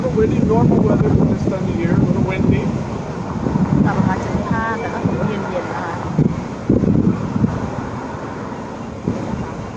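Strong wind on Palm Beach island buffets the microphone in a loud continuous roar, with a faint wash that could be sea surf underneath and a voice talking over it.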